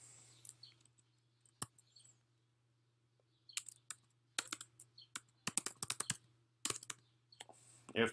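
Computer keyboard typing in short irregular bursts of clicks, fairly close and clear over a low steady hum, with quiet pauses between runs of keystrokes.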